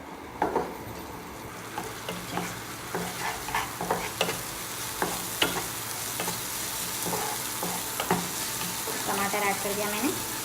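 Chopped onions and tomatoes fry in a pan for an egg roll, a soft continuous sizzle broken by repeated scraping and stirring strokes of a spoon against the pan, close and moderately quiet.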